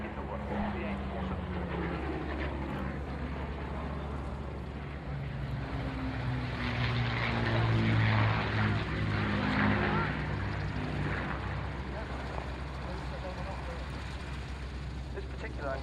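A four-engine Avro Lancaster bomber, built at the end of the Second World War, drones past at the Fairford airshow with a steady, rising and fading propeller roar, while a commentator's voice talks over it.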